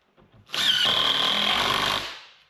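A power drill drives screws into a plywood wall around a window frame in a woodshop, one loud sustained whine of about a second and a half with a short lead-in, close and alone.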